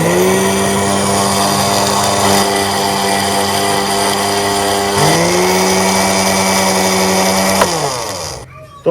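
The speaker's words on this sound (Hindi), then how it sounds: "मसाले को ग्राइंड करने के बाद हम चीनी को भी ग्राइंड कर लेंगे" Sugar for masala chai being ground in an electric kitchen grinder, a loud, steady high-pitched motor whine held for several seconds with a brief dip in pitch midway, then winding down abruptly to a stop.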